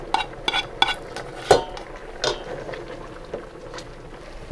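Onions and mushrooms are tossed into a big pot for a beef stir fry, giving a few sharp clanks and clatters over a soft background sizzle, with no talking.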